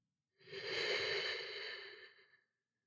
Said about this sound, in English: Let's take a deep breath here together to bring our meditation to an end